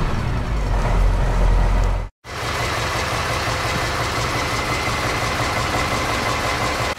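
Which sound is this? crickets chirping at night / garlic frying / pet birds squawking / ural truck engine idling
ural truck engine idling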